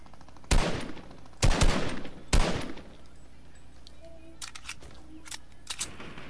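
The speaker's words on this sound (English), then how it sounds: "I see he was shooting at them." Gunfire in the Fortnite video game: three sharp loud shots at roughly one-second intervals, followed by several fainter, more distant shots and small clicks over a quiet background.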